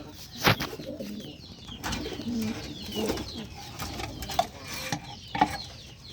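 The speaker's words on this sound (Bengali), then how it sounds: "এই যে এখানে ইন্ডিয়ান দাও কবুতর আছে দেখেন" Soft cooing of Indian dove pigeons rises in a few short bursts over a faint background hum, with some clicks and rustles in between.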